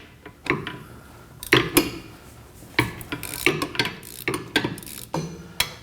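Two 12mm bolts loosened on the rear hub of a 2011-2016 Kia Optima, heard as a series of sharp metallic ratchet clicks and tool clinks in irregular bursts, close up.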